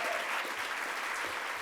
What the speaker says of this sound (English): we'd love to sort of give you a round of applause as well